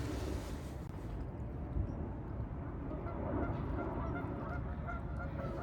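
Geese honk beside a river on a mudlarking foreshore, a faint, distant chorus under a steady broad rumble of water and ambient noise.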